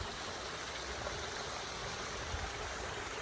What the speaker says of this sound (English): I got to see this really cool water stream